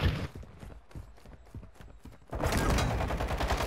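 Gunfire rings out in the video game Call of Duty: Modern Warfare II, a string of separate sharp shots pops at an irregular pace, then gives way to a dense, continuous roar of louder firing.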